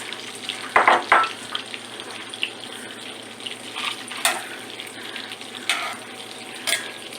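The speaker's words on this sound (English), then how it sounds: "you're gonna cook your sausage first" Sausage fries in a hot pan on the stove, a soft continuous sizzle broken by a few louder bursts of crackling and stirring scrapes.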